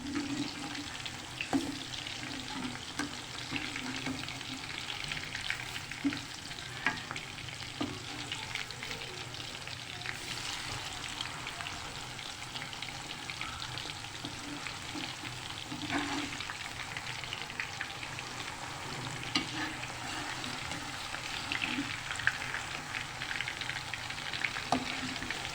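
Lahori masala fish frying in hot oil, a constant bubbling sizzle at moderate level, broken by scraping and knocks as the pieces are turned, no speech.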